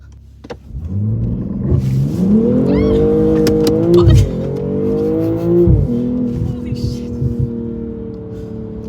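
2022 BMW M240i launching under launch control, its engine note climbing through rising harmonics with shifts near two and six seconds as the rear tires slip, loud and close from inside the cabin, with excited voices mixed in.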